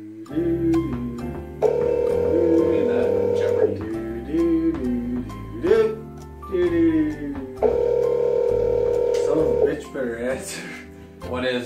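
A telephone beeping on an unanswered call: two long steady electronic tones a few seconds apart, heard between and under people talking nearby.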